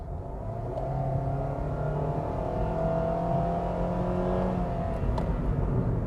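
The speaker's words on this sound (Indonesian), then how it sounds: "suara mesin ketika di kick down itu bisingnya masuk sekali ke dalam kabin" Engine noise from a 2022 Daihatsu Sirion with a CVT during kick-down acceleration, heard from inside the cabin as a loud, steady droning hum with rising whine, continuous throughout with no talk.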